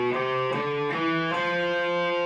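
Distorted electric guitar plays a brief run of a Mixolydian mode phrase, several notes sounding in quick succession over a sustained ringing tone, close and steady with no voice.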